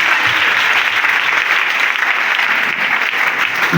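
Sustained applause from a church congregation during a French-language deliverance prayer service, a dense steady wash of many hands clapping at close range, continuous and loud throughout with no break.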